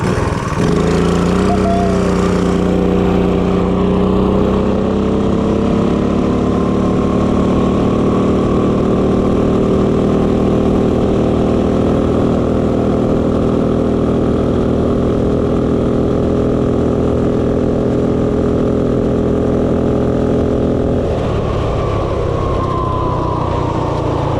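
A small off-road drag minibike engine runs steadily at high revs, a loud buzzing drone that holds a constant pitch for about twenty seconds before shifting near the end, heard close with no talking.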